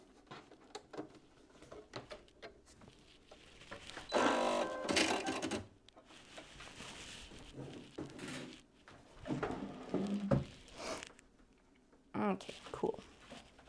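Sewing machine stitching fabric for a pair of shorts, running in irregular bursts with rattling and clicking, louder in the middle, with voices talking quietly over it.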